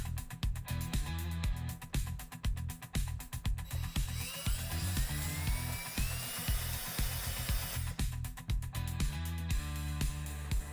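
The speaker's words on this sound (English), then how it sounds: "Now we have to drill those holes using said drill bits." An electric drill bores holes into a guitar body during a Super Strat build. A loud whining motor runs almost the whole time with uneven pitch, and grinding bites come and go as the bit cuts the wood.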